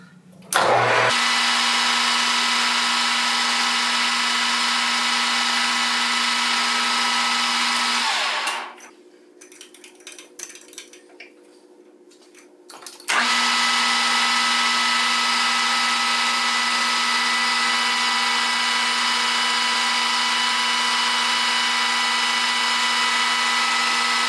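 A wood lathe runs with a loud, steady machine whine and strong tonal hum as a center drill bores into wood, briefly dropping to a quieter level mid-clip before resuming at full intensity.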